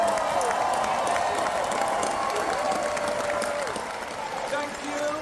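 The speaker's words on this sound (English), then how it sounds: "Let's give them another round of applause." Applause from a graduation ceremony audience in a New York University theater for the class of 2024, dense steady clapping with crowd noise and some cheering, loud and continuous throughout, with a faint voice underneath.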